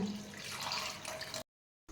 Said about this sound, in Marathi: त्यानंतर आता पाणी घालायचे